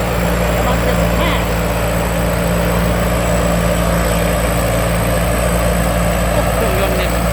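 A combine harvester working a rice field runs with a loud, steady engine drone and mechanical hum throughout, unchanging and close, with voices faintly underneath.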